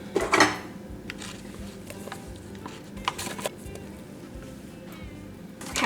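Orange cake batter being mixed in a bowl: soft scraping and clinking of a utensil against the bowl, a louder clatter at the start and a few sharper knocks, fairly quiet with no talking.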